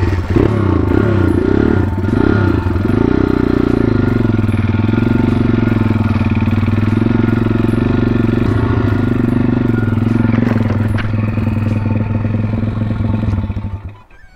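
A Kawasaki motorcycle engine roars steadily up close, revving with a rough, buzzing drone that cuts off abruptly at the end.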